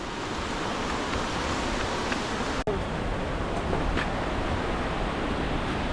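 Dense, steady roar of rushing water at Tappiya Falls near Batad, Banaue, Ifugao, loud and close with no pauses, a single brief dropout partway through, and no voices.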